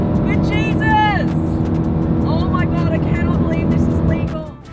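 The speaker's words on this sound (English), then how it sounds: "I am pedal to the metal on a German Autobahn. I'm racing past these other cars." A car at full throttle on a German Autobahn, overtaking other traffic, gives a steady loud engine and road roar with rising whining tones, fading slightly at the end.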